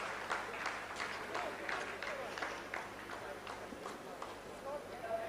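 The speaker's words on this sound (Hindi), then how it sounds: "आप इस तालियों के गड़गड़ाहट को सुन सकते हैं" Scientists at the Chandrayaan-3 mission control clap steadily after the lunar descent phase completes, a dense, sustained patter of many hands filling the room, with a voice talking over it.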